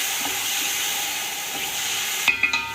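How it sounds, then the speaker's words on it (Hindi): A tomato and green chili puree fries in a pan for chicken dum biryani, a steady close sizzling hiss with a few sharp clatters of stirring near the end. "थोड़ा सा हम इसको भूनेंगे"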